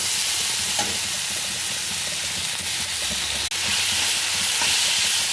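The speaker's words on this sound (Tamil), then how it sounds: "கல்லுப்பு போட்டு வதக்கலாம்." Tomato and onion sautéing with rock salt in a pan, a dense continuous sizzle with stirring scrapes and a brief dip mid-way, close and fairly loud.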